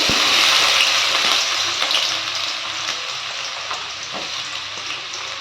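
Chopped onion dropped into hot sesame oil with fennel seeds, a loud hissing sizzle right at the start that slowly eases, with a few faint scrapes, close up.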